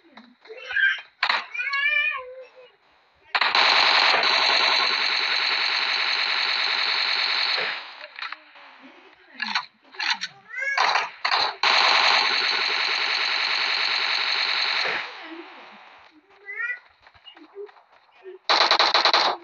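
Sustained bursts of automatic gunfire from the PUBG Mobile game run in two long stretches, loud and close, with short gaps between them where brief voices and a cat-like meow come through.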